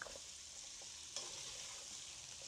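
Carrots frying in a pan, a faint steady sizzle with a few soft stirring scrapes and one brief louder clatter, no voices.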